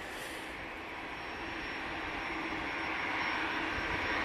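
A Bombardier Challenger 300 business jet departs Manchester Airport as a broad, steady engine roar that slowly swells over several seconds, distant and moderately loud, with no voices.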